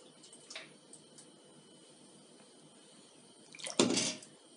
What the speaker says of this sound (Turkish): Tepsimize sütümüzden dökelim.